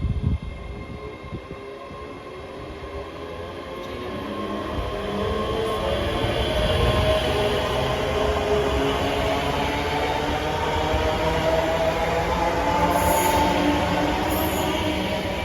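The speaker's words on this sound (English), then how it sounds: "Departing out now is the 1509 ScotRail service from Edinburgh Waverley to Dunblane." A ScotRail passenger train pulls out of Haymarket station in Edinburgh, bound from Waverley to Dunblane, its steady rumble and rolling wheel noise swelling after a few seconds and holding close and loud, with a faint high wheel squeal.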